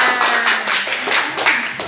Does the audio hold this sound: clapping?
yes